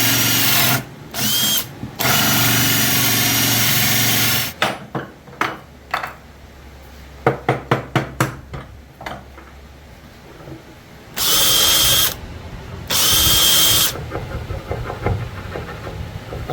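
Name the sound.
drilling out a dowel in an oak rocking chair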